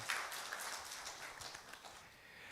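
A congregation applauds during a church worship service, a steady wash of clapping that holds at moderate level from start to finish, with no voices heard.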